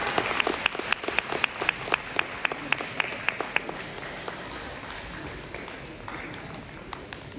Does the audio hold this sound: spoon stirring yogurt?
no